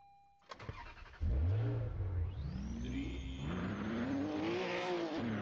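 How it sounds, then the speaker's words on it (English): A car in the Roblox video game starts up and accelerates, its engine note rising and falling in loud, continuous revving that swells in pitch as it is driven, with no talk over it. "Okay, this car is really hard to drive."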